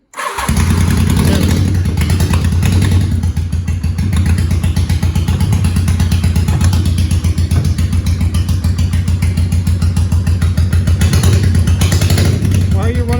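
A 1985 Honda Shadow 750 motorcycle engine runs rough on one cylinder after choking, a loud, close, steady lumpy idle with uneven firing, while someone talks over it.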